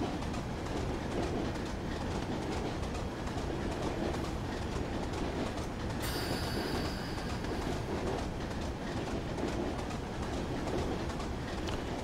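A train rolls along continuously in the Train Simulator 2021 game on the Weardale and Teesdale line, a steady rumble with rhythmic clickety-clack of wheels on rail, loud and close, with a brief higher tone partway through.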